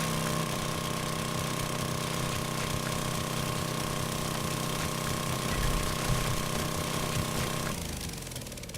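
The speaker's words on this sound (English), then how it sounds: "I was just taking my auger and going along and shaving off the top here" In the 7 Days to Die video game, a motorized auger digs and shaves off the ground, a steady chugging mechanical drone that holds level and then fades slightly at the end.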